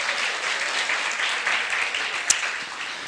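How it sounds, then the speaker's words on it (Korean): A church congregation applauding three guest speakers, a dense steady clapping throughout, with one sharper nearby clap standing out. "세 분의 정말 감사와 존경을 담아서 박수하고 싶어요"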